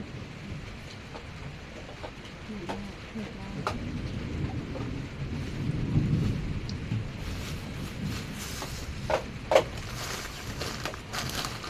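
Rain falling steadily with low rolling thunder building in the middle, heard outdoors at a moderate distance, with a few scattered clicks and knocks on top and no clear talk.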